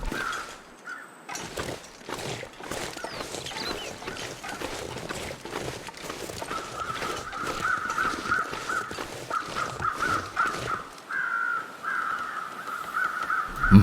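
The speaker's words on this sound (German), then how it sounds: "Da hat es viele Vögel." Crows caw again and again in the survival game The Long Dark, repeated harsh calls over a steady wind-like ambient bed, with a sustained tone joining partway through.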